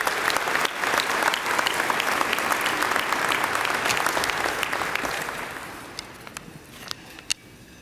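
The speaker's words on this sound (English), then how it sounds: "Let's give them a round of applause." Steady applause from a chamber of commerce annual meeting audience, dense and sustained for several seconds before thinning into scattered claps and fading out.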